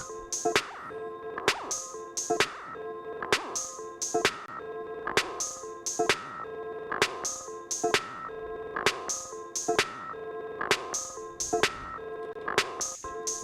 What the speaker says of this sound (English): What you're hearing is the speed of the LFO on the time changing.